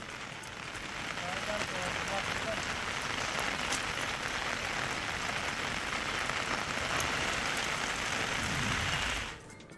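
Monsoon rain falls steadily on a surface, a dense even hiss close by that holds at the same level before dropping away at the end, with a voice speaking under it.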